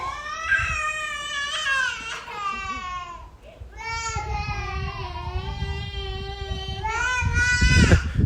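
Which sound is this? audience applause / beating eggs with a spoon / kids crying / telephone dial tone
kids crying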